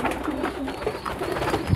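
Pigeons coo in a steady, close series of soft, low throaty calls, with no talk over them.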